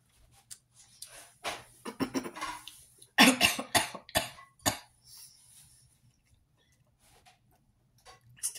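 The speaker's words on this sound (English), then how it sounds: "Still get that cough." A person coughs indoors in a quiet room, several short harsh bursts clustered in the middle with a few fainter coughs before and after, close to the listener and with no talking.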